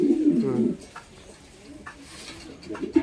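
A large pigeon coos close by, a low throaty burst at the start and again near the end, with faint background rustling in between.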